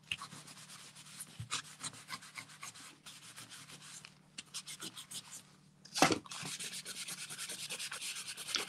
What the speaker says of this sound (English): buff that one off.